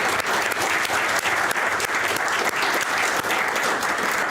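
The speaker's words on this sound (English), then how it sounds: "let's give another round of applause to these incredibly talented young people" Audience applause for young debate performers, a loud, dense and continuous clapping from a full room with a brief cheer, steady throughout.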